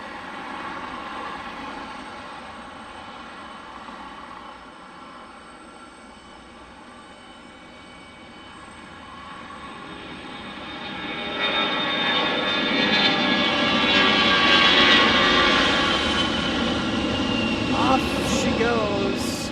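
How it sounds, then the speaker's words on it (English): A Delta jet airliner on its takeoff roll at Detroit Metro Wayne airport, engines building from a distant hum to a louder, swelling roar, with a voice talking over the noise. "Delta 2334 to Bradley is on the takeoff roll"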